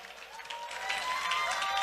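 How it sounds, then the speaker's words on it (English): Steady applause from a crowd, a dense wash of clapping that swells slightly midway and continues throughout. "Give another round of applause for Jason Chu, y'all."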